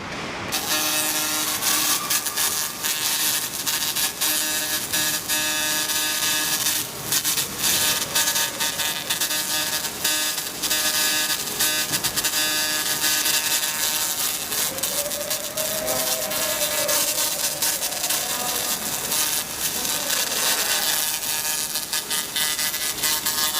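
A 100W laser cleaning machine stripping paint from a wheel hub gives a steady, dense hiss and buzz that runs unbroken and fairly loud throughout, with a faint tonal whine rising briefly near the middle.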